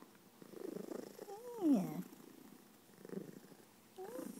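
A cat purring loudly in close rhythmic waves, with a person's soft voice cooing over it now and then.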